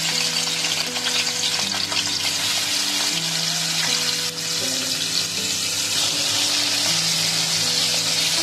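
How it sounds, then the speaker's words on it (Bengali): Turmeric-and-salt-coated shrimp fry in hot oil, a loud continuous sizzle and crackle with occasional stirring, close and steady throughout. "চিংড়ি মাছগুলো ভালোভাবে ভেজে নিব।"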